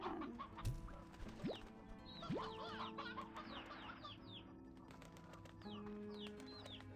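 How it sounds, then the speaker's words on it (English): Stony hens from Slime Rancher 2 cluck in short repeated calls over the game's ambient bed of chirping birds and rising whoosh effects, moderately loud with no talking. "Oh, we left more stony hens out?"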